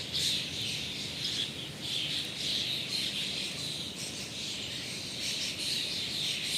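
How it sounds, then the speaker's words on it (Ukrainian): Starlings singing outdoors in a warm spell, a dense continuous chorus of high chirps and whistles layered with steady insect-like trilling, moderately loud and unbroken throughout, with no voices. "Мені здається, що сьогодні майже парад пташиного співу."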